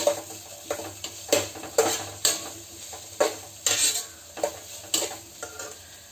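Onions sautéing in a pan, a faint background sizzle punctuated by about a dozen distinct scraping stirs and metallic clinks of a utensil against the pan, close and fairly regular.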